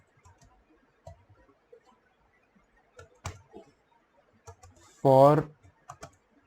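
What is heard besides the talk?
typing code on a computer keyboard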